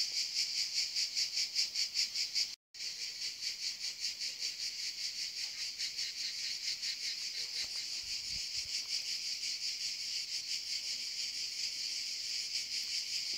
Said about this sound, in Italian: Quello che sentite è il suono delle cicale d'estate in un uliveto secolare salentino.